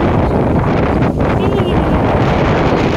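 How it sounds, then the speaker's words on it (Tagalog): Strong wind buffets the microphone in a constant loud rumble on Whampoa Promenade, with faint voices barely audible beneath the roar. "Super windy."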